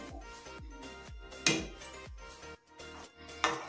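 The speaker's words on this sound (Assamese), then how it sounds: "এতিয়া ভালকৈ লৰাই দিছোঁ মই" Close, rhythmic scraping and clinking of a spoon stirring rice payesh with cashews and raisins in a pot, steady strokes repeating roughly twice a second with a couple of sharper knocks.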